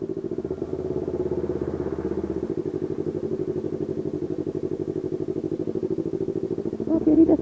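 A Yamaha R25 motorcycle idles steadily at close range while waiting in a ferry queue, a low, even engine rumble with fine rhythmic pulsing that holds throughout, with a slight rise in intensity near the end.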